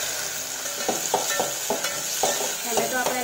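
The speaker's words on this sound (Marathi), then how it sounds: "कांदा थोडा गुलाबी रंगावर आला की त्यावर मी टॅमॅटो घालणार आहे." Chopped onion and tomato fry in a pan, a steady sizzle broken by a series of scraping stirs at an even pace, close and fairly loud.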